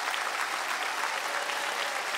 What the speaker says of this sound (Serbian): aplauz podrške za našeg dragog Žiku